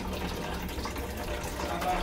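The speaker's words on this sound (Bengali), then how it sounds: "এবার তরকারিটা ঢেলে নেব আমি।" Vegetarian vegetable curry pours steadily from a pot in a continuous wet gush, close and moderately loud, with no talk over it.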